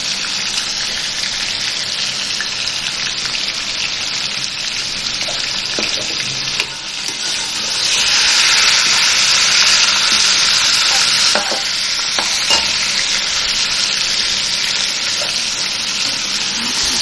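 Garlic-ginger paste frying and being stirred in hot oil for chicken pulao, a steady loud sizzle with scraping stir strokes that briefly intensifies partway through, with no talking.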